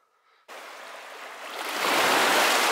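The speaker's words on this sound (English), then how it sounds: "Here's the beach right here at Rockport. It's absolutely beautiful. Crystal clear water." Water at the Rockport beach in Michigan, a quiet start giving way to a broad steady wash of surf or lapping water that grows louder and fuller, heard close with no voices.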